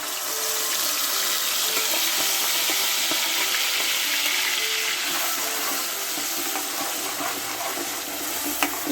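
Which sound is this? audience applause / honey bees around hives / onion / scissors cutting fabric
onion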